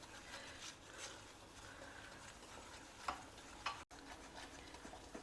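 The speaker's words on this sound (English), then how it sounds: "Fry both in the ghee." Fine semolina (rava) and besan frying in ghee over a low flame, a faint steady sizzle with soft scraping stirs and a couple of brief clinks, no talking.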